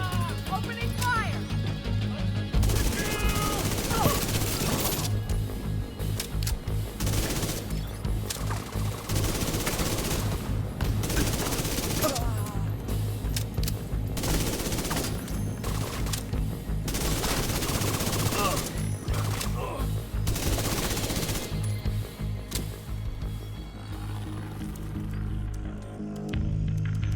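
Sustained automatic gunfire in The Division 2 rattles in repeated loud bursts across a busy firefight, with voices talking over the shooting throughout.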